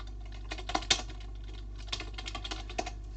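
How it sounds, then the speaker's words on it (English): Computer keyboard typing close by: a short, uneven burst of key clicks and taps, a few louder strokes standing out, alone without speech. "can hear my keyboard typing."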